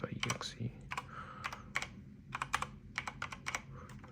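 Someone types a chmod command on a computer keyboard in an FPGA project terminal. Crisp, close keystrokes come in quick bursts with brief pauses, and faint voice sounds sit underneath.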